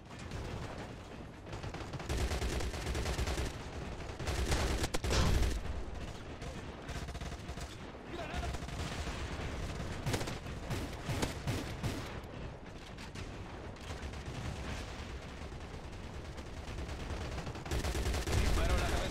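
Gunfire crackles in the video game Crossfire X in dense, rapid bursts of automatic shots that come close and loud, repeated throughout with brief pauses between volleys.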